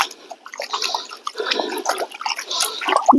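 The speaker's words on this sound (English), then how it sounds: "I'm just going to give it a good rinse" Water poured and splashed over a rock held above a metal gold pan during gold panning, a continuous close rinsing and trickling with small spatters and drips throughout.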